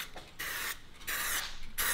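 Bursts of spray hitting a car wheel, three or four hissing sprays separated by short pauses, close to the microphone with no talking.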